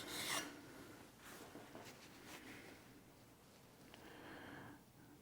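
A knife blade scrapes in slow, separate rasping strokes across a James Barry diamond sharpening system, each pass a faint gritty rub with short pauses between, close and quiet.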